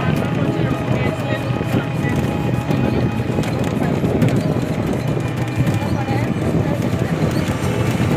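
Hooves of a horse pulling a tonga clip-clop along a busy road near the Taj Mahal in Agra, mixed into loud, continuous street bustle and nearby chatter.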